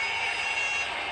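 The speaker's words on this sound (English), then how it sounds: "5 seconds, there'll be a buzzer" A workout interval timer's electronic buzzer sounds steadily, loud and continuous and without pauses, signalling the switch to a 45-second rest in a cardio and strength session.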